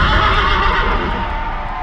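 A horse neighs loudly and continuously, a strained shrieking whinny filling the whole short stretch with no pause, close and dense.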